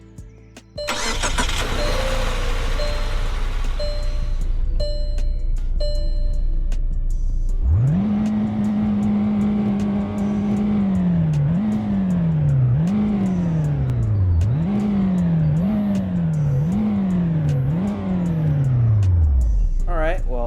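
A car's 2.5-liter four-cylinder engine turns over and settles into a steady idle, then revs repeatedly in rising and falling bursts, close and loud. Other noise sits underneath before the engine starts.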